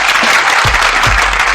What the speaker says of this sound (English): let me give her a clap